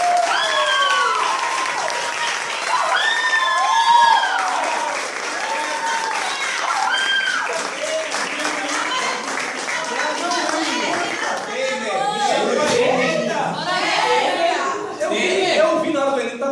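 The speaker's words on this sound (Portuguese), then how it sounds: "palmas para a hora do Enem" Crowd applause at a university entrance exam prep event, sustained clapping from many hands with excited voices and chatter over it, growing denser toward the end.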